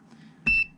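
A multimeter set to continuity mode gives one short, clear electronic beep as its probes touch, preceded by a faint low hum.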